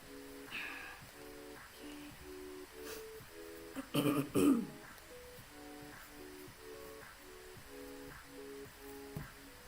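A person nearby coughs and clears their throat in a short harsh burst, while a repeating electronic beeping tone plays steadily in the background.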